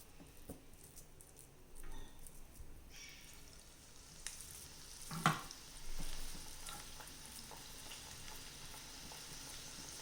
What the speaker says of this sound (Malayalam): ഒരു 3-4 ട്രിപ്പായിട്ട് വറുത്ത് കോരേണ്ടി വരും.